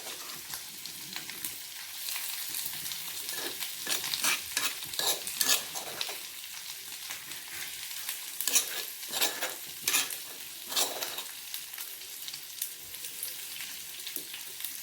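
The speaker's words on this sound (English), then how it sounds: "now we're gonna put the sambal into the pan. We're gonna fry" Sambal frying in a pan while it is stirred, a soft steady sizzle broken by repeated scraping strokes of a utensil against the pan, close and fairly quiet, with no voices.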